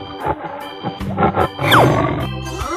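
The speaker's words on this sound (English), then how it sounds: "Tiger." A tiger in a 3D animal slide video game gives a short, growling roar among other in-game sound effects and music, lasting only a few seconds.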